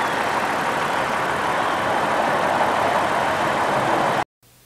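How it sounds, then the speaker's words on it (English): A 4-liter V6 in a Toyota 4Runner idles steadily with a broad, even mechanical hum, loud and close, before it cuts off abruptly near the end. "Under the hood is a 4-liter V6 engine."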